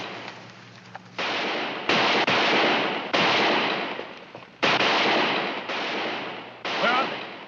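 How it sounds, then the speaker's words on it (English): Gunshots fired into the air in an Old West setting, a handful of loud sharp cracks spaced a second or so apart over a steady noisy background. "My warriors shoot in air."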